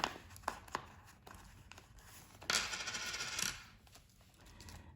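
A few small coins are pulled from a cash budgeting envelope, giving several close, light metallic clinks and a short rustle of paper, with no voices.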